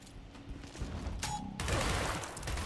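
Gunshots in the tactical video game Gears Tactics, a burst of dense crackling fire with a brief tonal hum in the middle, followed by a louder sustained volley near the listener.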